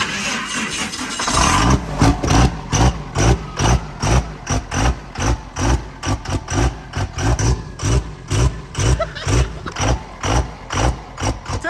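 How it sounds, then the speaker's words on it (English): Diesel drag truck engine cranking and catching, then idling roughly in heavy, uneven pulsing surges loud and close, with rattling from the shaking truck body. "The whole truck is shaking."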